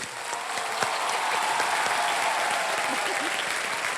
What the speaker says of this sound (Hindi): आप लोग सब खड़े होके इनके 1 रुपए के लिए ताली बजाएंगे।